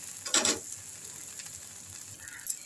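A tiffin snack fries in oil in a pan, a steady low sizzle with a louder burst near the start as the piece is turned, then quieter crackling.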